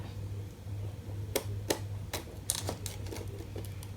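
Scissors snip through paper being trimmed for a file folder, a handful of crisp, close cuts spaced irregularly over a low steady hum.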